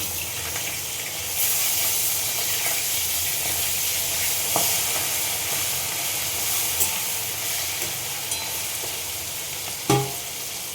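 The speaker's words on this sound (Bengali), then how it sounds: "দেখো আমাদের মাছটা অনেকটাই রান্না হয়ে যাচ্ছে। এই দেখো পুরো ভেজে ভাজা ভাজা হয়ে গেছে।" Fish fries in a pan with a steady, loud hiss and sizzle throughout, broken by a few faint stirring knocks and a sharper clatter near the end.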